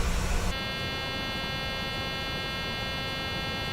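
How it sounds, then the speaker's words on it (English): A warning buzzer in a PMDG 737-900ER flight simulator sounds as a steady, loud, harmonically rich electronic drone, continuing unbroken after a brief louder burst at the start. "Come on, buzzer."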